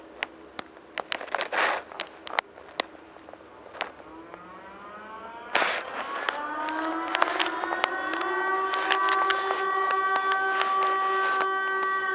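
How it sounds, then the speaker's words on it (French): Two French public warning sirens, sounding in a first-Wednesday-of-the-month test, wail and rise and overlap in the distance, their tones sliding upward and sustaining together amid scattered clicks and crackling noise. "Deux sirènes d'un coup."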